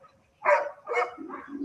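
A small female dog at a kennel giving a few short barks and yips in quick succession, close by, with a whiny trailing note at the end.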